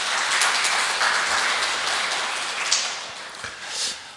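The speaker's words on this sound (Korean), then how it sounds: "큰 박수 부탁드립니다" Church congregation applauding warmly after a women's choir hymn at a Sunday service, dense steady clapping filling the room for about four seconds, fading slightly toward the end.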